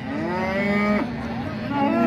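A cow at a livestock market lets out one long, loud, close moo that bends in pitch midway and carries through the whole moment.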